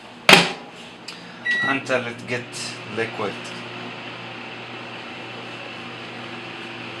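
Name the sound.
microwave oven running, melting Lotus spread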